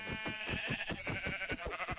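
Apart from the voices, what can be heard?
sheep bleating in Minecraft video game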